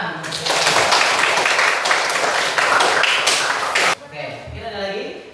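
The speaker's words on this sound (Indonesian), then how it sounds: "Tepuk tangan." A classroom of students claps together on a teacher's cue, producing about three and a half seconds of brisk, close clapping. It stops abruptly, and a voice then speaks.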